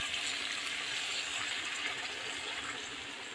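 Water is poured into a hot pan of oil with chicken, giving a continuous close hissing, rushing sizzle that stays steady and fairly quiet throughout, with no voices.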